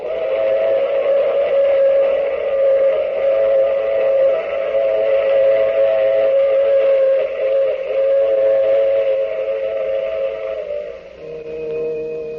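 In an old-time radio drama, a loud, sustained steam train whistle sounds for over ten seconds over the steady rumble of a moving train, then drops away as the rumble continues.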